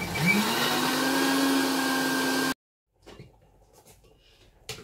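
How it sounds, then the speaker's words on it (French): A kitchen blender purées okra with a little water, running as a loud steady whir for about two and a half seconds before cutting off abruptly, followed by faint handling noises. "le gombo est terminé de mixer"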